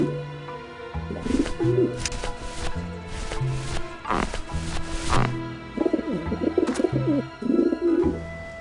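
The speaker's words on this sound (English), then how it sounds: "the pigeons obviously like this dish vent." Pigeons cooing around a dish vent in the video game Grim Fandango, repeated soft throaty coos in several bursts alongside low looping game music.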